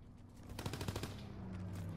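A machine gun fires in Call of Duty: WWII in a quick burst of rapid rounds, faint and distant, closing into a low sustained rumble.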